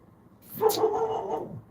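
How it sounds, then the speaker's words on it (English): A single dog gives a short, close bark-like yelp that swells and holds for about a second against a quiet room, with no talking. "there's my dog"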